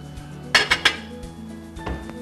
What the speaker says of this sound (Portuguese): Para isso vou pegar uma panela aqui.